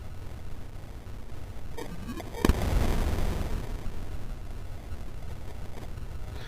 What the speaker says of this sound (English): alkali metals react violently with water